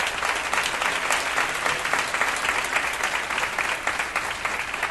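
Steady, dense applause from a large audience at a Bible study gathering in Rotterdam, Netherlands, sustained and close throughout with no talk over it.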